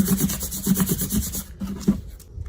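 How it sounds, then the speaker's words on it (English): A vinyl transfer sheet is rubbed down onto glass for bottle painting, making a close, scratchy back-and-forth friction sound. Several rhythmic strokes come first, then a pause and one last rub. "It'll come on a sheet, and you just rub it."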